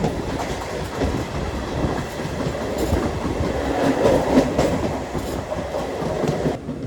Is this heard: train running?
yes